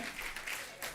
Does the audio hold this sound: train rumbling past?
no